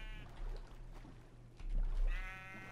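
Sheep bleating in Minecraft while the animals swim through water, two drawn-out bleats, one near the start and another near the end, fairly faint against a low watery background.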